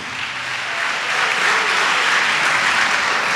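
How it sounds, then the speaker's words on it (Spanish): A church congregation applauds in a steady, dense wash of clapping that swells slightly and holds loud and close throughout. "Si le quiere dar ese aplauso a Dios, vamos a dárselo bien, como Él se lo merece"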